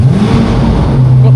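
A Chevrolet Corvette C8 engine runs with a loud, deep, close rumble in an enclosed space over a very short moment.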